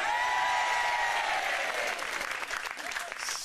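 A television game-show studio audience for Deal or No Deal claps and cheers loudly and continuously, a dense wash of applause that thins slightly toward the end.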